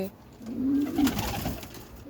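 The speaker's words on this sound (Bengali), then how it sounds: "এত সুন্দর কবুতর" Pigeons coo on a rooftop, low soft repeated calls rising to a close, moderate coo in the middle of the stretch over faint background noise.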